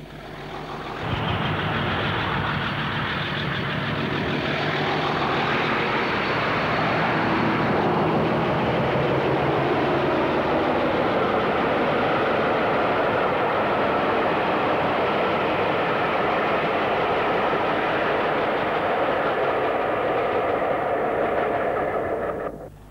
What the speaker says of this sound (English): The same train leaving for Oban.